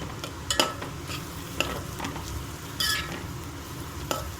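Egg fried rice being stirred with masala in a pan, soft continuous scraping and gentle sizzling with occasional light clinks of the spatula, close but fairly quiet.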